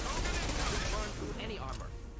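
Rapid gunfire in Mass Effect 2 chatters as a dense burst of shots, loud and close at first, then thinning and tapering over a couple of seconds with faint voices underneath.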